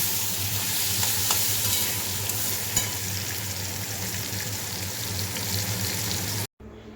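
Eggplant rubbed with salt and turmeric fries in a pan with a steady, dense sizzle and crackle, continuing loud and unbroken with no voices before cutting off abruptly near the end.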